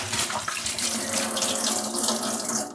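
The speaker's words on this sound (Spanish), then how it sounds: "se acercan a una canilla, le ponen un poco de agua" Tap water splashing into a beer bottle to rinse it while brewing beer, a steady close rushing pour that stays fairly loud and even throughout, with no voices.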